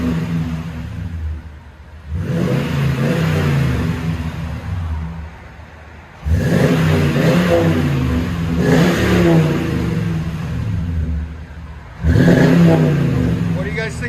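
A Jeep Grand Cherokee 4x4 engine revs through a Flowmaster Super 50 muffler in three loud bursts separated by idle dips, with people talking over the exhaust note.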